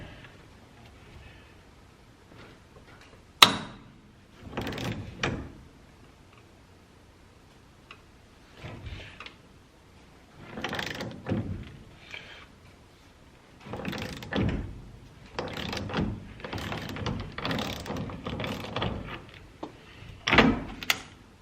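A steering wheel puller working a steering wheel off a truck, heard as scattered metallic clicks, creaks and clunks of tightening and shifting, with a sharp crack near the start and bursts of mechanical handling in between.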